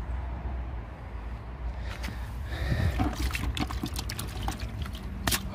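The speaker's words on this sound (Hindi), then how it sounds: "मैं दोबारा इसको बाल्टी में डालता हूँ और इसको साफ धो लेते हैं" A car-cleaning cloth being rinsed in a bucket of water, close sloshing and dripping splashes that grow busier and louder partway through, with faint background rumble.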